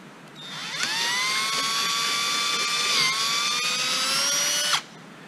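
A power drill bores into an aircraft vertical stabilizer part during an RV-14A kit build, a sustained high whine that starts, holds steady for about four seconds with a slight dip, then cuts off abruptly, close and loud.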